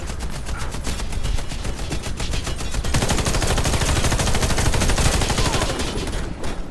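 Rapid automatic gunfire in the video game Warface, dense and loud with fast repeating shots that run without a break, thickening into heavier overlapping bursts in the second half.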